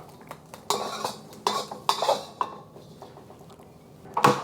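Food being moved into another bowl while making a Malaysian wrap, with a series of close clinks, scrapes and knocks of utensils against dishes, irregular and sharp, no talk.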